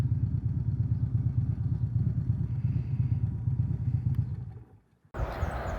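A Harley-Davidson motorcycle engine idles with a steady low, pulsing rumble while parking beside other Harleys outside a restaurant in Farmington, Pennsylvania, then cuts off near the end, followed by brief broadband noise.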